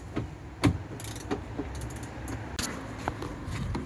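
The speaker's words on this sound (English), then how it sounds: "ratchet spanner for this one, I think, because it's firm up against the regulator" A ratchet spanner works inside a Rover 45 door near the window regulator, making clicking, creaking mechanical sounds in uneven bursts, close up against a steady background hum.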